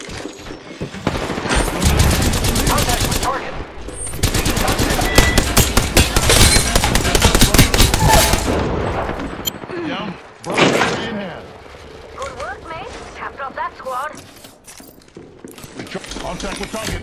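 Rapid automatic gunfire in the video game Apex Legends, played on Nintendo Switch, loud sustained bursts with thuds and impacts, broken by pauses, while a voice talks over the shooting.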